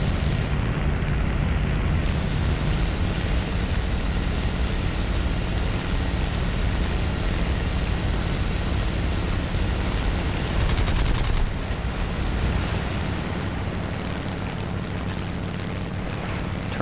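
A Mitsubishi A6M3 Zero fighter in the War Thunder flight game drones with a loud, continuous piston-engine roar, steady and close throughout, with no talking.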